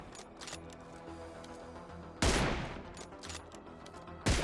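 Gunfire from PUBG Mobile on the Livik map: two sharp, loud bursts of shots, one midway and another at the end, standing out over a steady game background hum.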